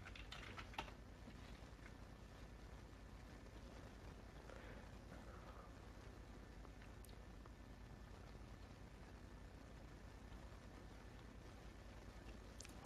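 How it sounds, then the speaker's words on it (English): Faint, quiet keystrokes on a computer keyboard as a password is typed, scattered soft clicks over low room hiss with no talk. "type in the password Penjin."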